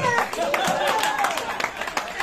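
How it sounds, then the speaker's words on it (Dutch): Applause at a Christmas show event, with a cluster of claps under a voice and a rising tone. The clapping is moderately loud and brief, mixed with talk. "Groot applaus."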